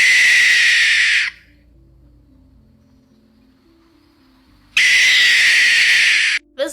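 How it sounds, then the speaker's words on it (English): A barn owl's harsh, drawn-out screaming call, loud and close, runs for just over a second, then breaks off into near silence. Around four seconds later a second long screech starts up and carries almost to the end, with no voices. "the very, very scary screaming sound that these owls tend to make"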